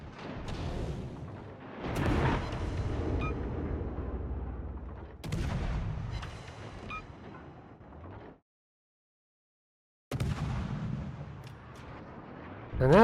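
Cruiser AP guns fire in World of Warships: several heavy, booming salvos roll out with long rumbling decays, one burst after another, then a brief silence before a final volley. A voice murmurs faintly underneath.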